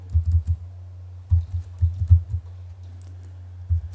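Quick bursts of typing on a computer keyboard as a web address is entered, soft close clicks in short clusters separated by pauses, with no talk.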